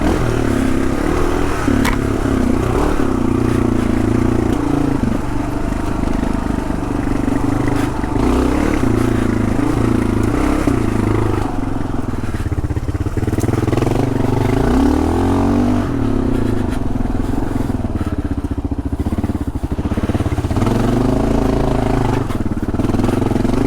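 A Kawasaki KLR650 single-cylinder motorcycle ridden hard off-road, engine revving and shifting continuously up close, with clattering and wind buffeting over the steady drone.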